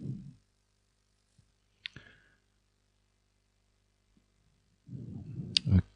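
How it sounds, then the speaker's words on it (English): A few isolated mouse clicks on a trading chart, spaced out across quiet stretches, with a louder burst of movement and clicking near the end. "Click on our chart."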